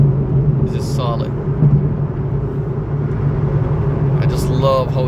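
Steady low engine rumble and road noise from a Nissan 370Z with a Nisom muffler cruising along, loud and continuous, with a few brief higher sounds around it.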